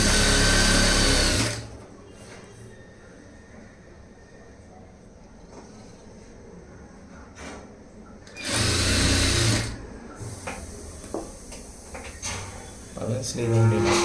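A sewing machine stitches a straight seam along a blouse sleeve, running in two loud, close bursts separated by a quieter stretch, with a shorter burst at the end.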